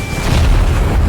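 Bombs set on a roller coaster go off in a loud, close, deep boom that rumbles briefly and heavily, with no voices.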